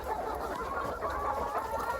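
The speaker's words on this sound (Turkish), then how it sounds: "Bak şu an gurk kaç tane tavuk var bak." Broody hens in a coop cluck softly and continuously, a low, close, steady chorus of fowl murmuring throughout.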